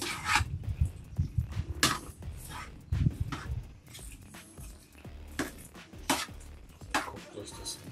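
Food being stirred and mixed in a cooking pot with onions in a small van kitchen, producing soft scraping, rubbing and clinking of a utensil against the pot in irregular bursts, close and moderately loud.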